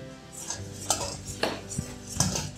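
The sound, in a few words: whisking ingredients in a bowl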